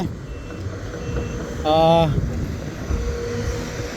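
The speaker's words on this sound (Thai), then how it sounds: "เสียงถอยนะครับผม เป็นเสียงเตือนนะผมนะครับ" A truck's reversing alarm sounds a quick run of evenly spaced beeps at a construction pit site in Buriram, standing out briefly over a low rumbling background.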